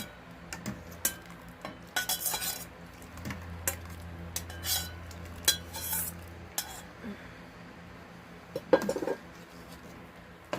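Curry being stirred in a metal pot, a spoon scraping and clinking against the sides in irregular knocks over a faint steady hum, moderately close with no talk.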